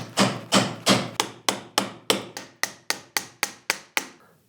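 Mallet blows driving a chisel into wood to cut a blind mortise, about fourteen sharp evenly spaced knocks that quicken slightly toward the end, close and crisp with no talk.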